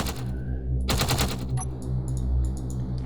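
Gatling turrets fire in the Space Engineers video game, a rapid burst of clattering gunfire over a steady low hum, followed by lighter scattered shots.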